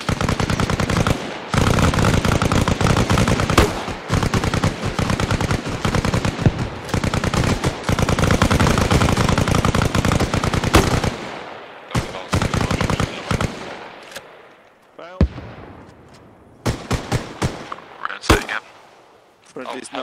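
Machine gun fire in the video game ArmA Reforger during a night mission: long, dense bursts of rapid automatic fire fill the first half, thinning into scattered shots and short bursts later, with voices talking over it.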